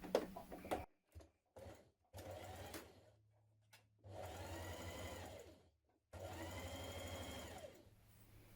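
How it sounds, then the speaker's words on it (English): A sewing machine stitches a jumpsuit pocket seam in short bursts: a few quick taps and stops, then two longer steady runs of whirring stitches, close and clear. "So let's stitch that seam first of all, attaching the pocket."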